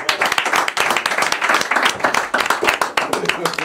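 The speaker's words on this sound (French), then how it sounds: "on peut applaudir Élise très très fort" An audience at a comedy talent show claps loudly and rapidly for a performer called onstage, dense close clapping mixed with voices and cheers.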